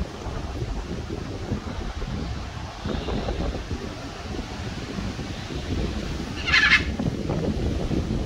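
Steady, roaring wind buffets the microphone throughout, a constant low rumble with gusts, and a brief high squawk partway through.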